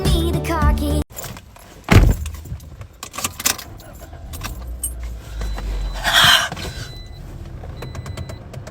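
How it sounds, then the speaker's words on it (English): Car keys jangle sharply as they are tossed, a bright metallic rattle at the start, then a thump, then background rustling with a brief second jingle later on. "It's tossing me the car key."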